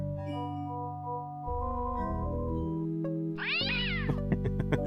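An angry cartoon cat in Day of the Tentacle yowls once, loud and rising then falling, over layered game music, followed by a few short sharp plucked accents.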